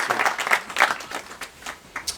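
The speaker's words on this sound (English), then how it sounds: "A big round of applause, ladies and gentlemen." Scattered audience applause at a school sponsorship announcement event, light irregular claps in short bursts over roughly two seconds, moderately quiet with no talk.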